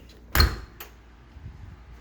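A furnace room door bangs open with a sharp knock, followed by a lighter second clack, in a quiet room.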